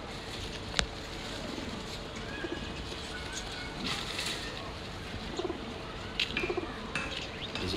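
An army pigeon coos softly nearby, giving several low, throaty coos in short bursts toward the end, with a little faint background noise.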